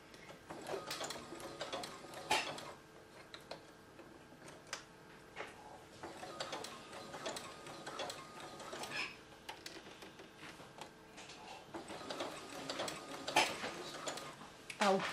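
A sewing machine stitches a bat plushie's head with a push-button reverse back tack, giving a steady mechanical ticking hum in runs with short stops, while a person talks at times over it.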